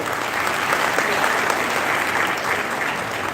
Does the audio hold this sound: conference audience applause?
yes